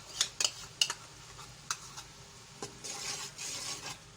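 A utensil stirs yogurt into a kofta masala in a pan: a few sharp metallic clinks and scrapes early on, then a soft, continuous low sizzle.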